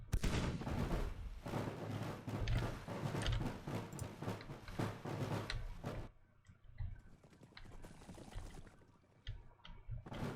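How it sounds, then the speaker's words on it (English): Heavy Civil War–era artillery bombardment in a strategy battle game, dense overlapping booms and crackling blasts for about six seconds, then thinning to scattered distant thuds and rumbles. "Can we initiate a bombardment?"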